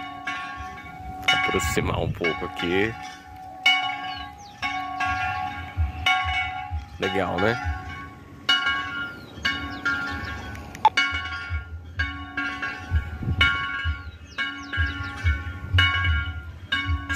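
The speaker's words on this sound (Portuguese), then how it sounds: "tem uma capelinha ali tocando, rapaz tocando um sino ali" A small chapel bell rings nearby outdoors in a series of clear, resonant strokes with lingering tones, while someone talks close by over it.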